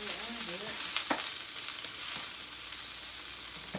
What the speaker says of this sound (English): We're going to use a silicone spoon. Gonna stir that around.